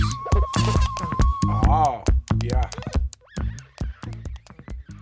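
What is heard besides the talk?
instruments made of vegetables playing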